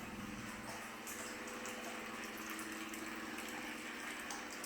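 Indoor water features in a house keep running with a soft, continuous trickle and splash, faint and steady throughout.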